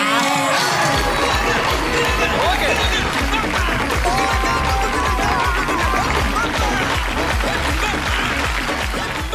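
A television music game show audience gives a contestant a big welcoming round of applause, dense clapping and crowd noise filling the hall, with a host's voice and music running over it.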